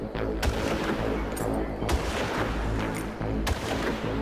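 Rifle fire at enemies in Far Cry, with several sharp, loud shots spaced about a second or more apart over a steady background of game noise.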